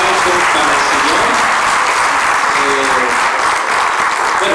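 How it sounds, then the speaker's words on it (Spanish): Loud, sustained applause from a church congregation, dense clapping filling the whole stretch without a break or any spoken voice over it. "Un aplauso para el Señor"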